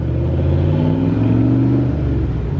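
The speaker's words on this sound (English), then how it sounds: "Turbo 5th gen. Oh, you can hear the turbo in it." A turbocharged fifth-generation car accelerates nearby, a loud, deep engine rumble rising in pitch with turbo whistle audible through the mufflers.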